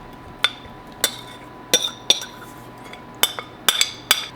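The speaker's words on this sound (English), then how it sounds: "we're going to put the potatoes back into the baking dish with the liquid" Potato pieces placed one by one into a baking dish with liquid, sharp close clinks against the dish at irregular intervals, about eight distinct taps over a quiet background.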